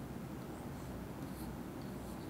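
Hand writing on paper, a faint continuous scratching and rubbing of the pen close up, steady for a couple of seconds with no talk.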